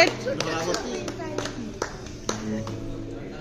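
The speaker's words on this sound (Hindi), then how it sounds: "ताली मारो" Several people clap together at a family birthday celebration, sharp irregular claps under voices singing and talking nearby, fairly close and moderately loud.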